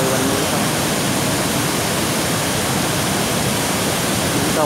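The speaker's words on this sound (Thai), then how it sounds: "ความงดงามน้ำตกแก่งโสภาในวันนี้ครับ" Kaeng Sopha waterfall roars in a dense, steady wash of falling water, loud and unbroken throughout with no voices.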